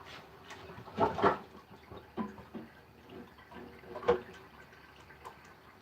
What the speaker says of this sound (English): This is a 2-gallon pot, so I'm going to fill it about halfway full.